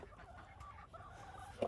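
Backyard hens cluck softly and steadily close by in a quiet yard.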